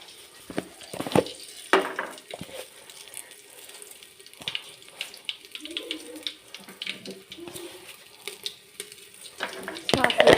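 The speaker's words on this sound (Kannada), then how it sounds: "ಈಗ ಸಾಂಬಾರಿಗೆ ಎಣ್ಣೆ ಕಾಯ್ತಾ ಇದೆ ಒಗ್ಗರಣೆ ಸಾಸಿವೆ" Mustard seeds tempering in hot oil for sambar, with scattered sharp crackles and pops plus occasional stirring scrapes, close and fairly quiet over about ten seconds.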